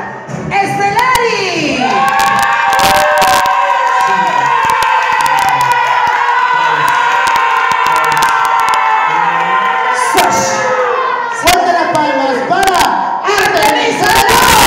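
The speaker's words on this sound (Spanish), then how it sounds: "¡Fuerte las palmas!" An audience at a drag show competition night claps and cheers loudly, with whoops and shouts over sustained rhythmic clapping that briefly dips and then surges again.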